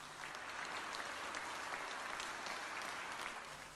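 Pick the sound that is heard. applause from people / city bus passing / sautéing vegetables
applause from people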